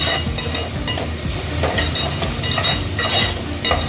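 Onions sautéing with salt in a pan as a spoon stirs them, with a dense, continuous sizzle and scraping stirs that come close and fairly loud, with no talking.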